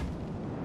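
Artillery cannon fire in the video game Total War, a heavy continuous rumble of sustained booming that fills the short moment at steady loudness with no speech.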